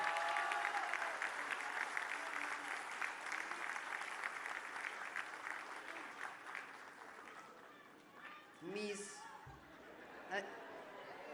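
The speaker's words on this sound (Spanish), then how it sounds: "un aplauso a todos los que son parte de esta gran institución" A crowd applauds IMSS public health workers at a hospital construction site visit, a sustained wash of clapping that tapers off into scattered voices and a few laughs.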